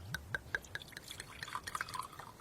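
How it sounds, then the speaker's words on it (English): Osmanthus wine is poured into a cup in soft, close trickles and drips, a quiet run of small liquid splashes with no talk. "allow me to pour you a cup"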